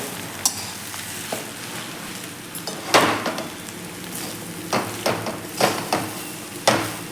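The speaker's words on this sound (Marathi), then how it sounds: "हे बटाटे स्मॅश करून झालेले आहेत, ते व्यवस्थित आपल्याला या मसाल्यामध्ये मिक्स करून घ्यायचे आहेत।" Mashed potatoes are stirred into masala in a pan, giving scattered scrapes and soft thuds of a spoon against the pan over a faint sizzle, close and moderately loud.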